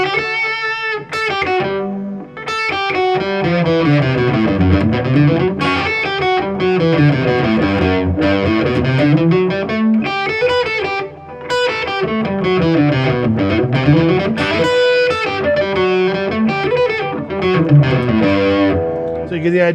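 Heavily distorted electric guitar plays a scale pattern, moving from bass notes with a wide skip up to the first string, a continuous run of ringing notes that rises and falls, loud and alone.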